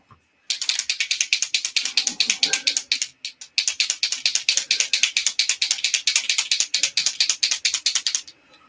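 A fine tip gray paint pen is shaken hard, its mixing ball rattling in rapid, loud, close bursts of clicks, with a brief pause partway through before the shaking resumes.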